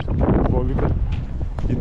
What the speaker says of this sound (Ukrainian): вітер дує, задуває